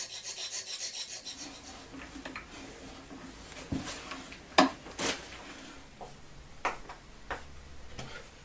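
A needle file scrapes metal in short, uneven strokes with occasional sharper clicks, close up and moderately quiet against a low steady background hum.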